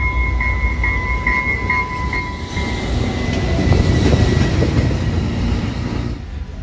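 Commuter train on Montreal's Mascouche line, heard from on board: a steady loud rumble of wheels and carriage with faint high whines and a tone that drops out midway, with no talking.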